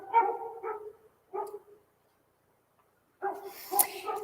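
Neighbour's dogs near the property line bark in a series of sharp, moderately distant barks and yips, a pause, then a renewed burst of barking.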